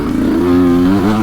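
A 2020 Sherco enduro motorcycle running close and loud, its steady droning engine note holding, dipping briefly, then rising again as the throttle opens.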